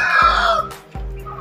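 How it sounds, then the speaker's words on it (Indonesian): Bangkok fighting chickens in a coop after rain, a loud close cluck and crowing burst followed by low, thumping repeated clucks. "Hari ini saya akan mengecek ayam Bangkok ya teman-teman"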